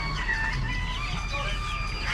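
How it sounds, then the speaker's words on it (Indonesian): Poultry cluck and call at Pasar Legi Kotagede, a traditional market in Yogyakarta, among steady crowd noise and nearby chatter. "Ini ada yang menarik, ada unggas di sini."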